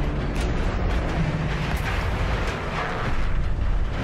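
A huge rumbling blast as a facility self-destructs in the Doom video game, a loud, sustained roar with heavy low-end rumble that swells and churns for several seconds, with no voices.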